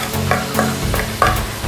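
Spices such as crushed red chilli, turmeric and salt stirred into frying okra masala with tomatoes in a pan, a continuous close sizzle with a few soft scrapes of the spoon.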